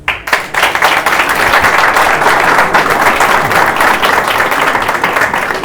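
Steady applause from an audience at a literary gathering, dense and continuous clapping throughout with no voices over it.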